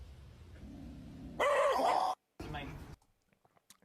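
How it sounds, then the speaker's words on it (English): A dog answers a request with a loud, brief howling bark, then a second shorter yelp, as people talk before and around it. "Can I ask your dog something?"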